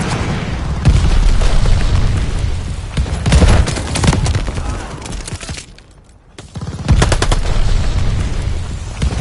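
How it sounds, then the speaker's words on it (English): A glide bomb blast in a video game, rendered as loud, dense booms and crackling gunfire-like bursts that fill most of the stretch, dropping briefly to near quiet before erupting again. "Enemy glide bomb coming in hot!"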